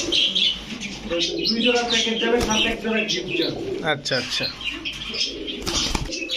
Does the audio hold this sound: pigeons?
yes